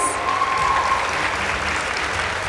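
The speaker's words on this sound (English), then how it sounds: "Let's also appreciate Aga Khan High School with a round of applause." A round of applause for Aga Khan High School after a school debate against Light International School, a crowd clapping in a steady, dense wash with a brief faint tone early on, alone without speech.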